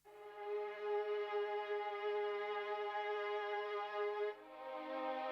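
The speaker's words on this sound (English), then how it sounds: "you'll hear it's a kind of mellotron style string" A held mellotron-style string synth chord sounds steadily and clearly, then shifts to a new note near the end with no voices present.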